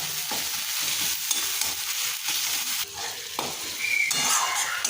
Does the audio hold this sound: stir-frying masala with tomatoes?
yes